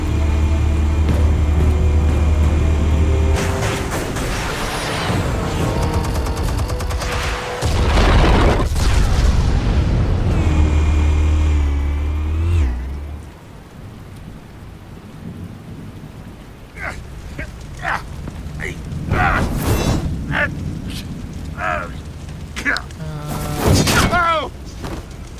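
Loud booming blasts in Batman: The Telltale Series as explosives detonate, heavy low rumbling bursts early on, then a quieter stretch with scattered sharp impacts and another burst near the end.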